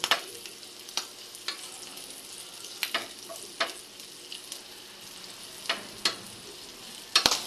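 String beans for adobong sitaw fry in fatty oil in a pan, with a steady sizzle broken by sharp pops and splatters at irregular intervals, close up and with no talking.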